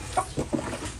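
A chicken clucks three short times in quick succession, close by, over faint background noise.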